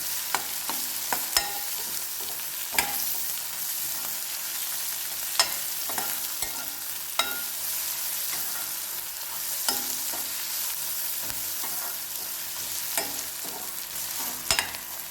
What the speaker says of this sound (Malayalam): ഇതിൽ പച്ചമുളകും ഇഞ്ചിയും കൂടെ ചേർക്കുക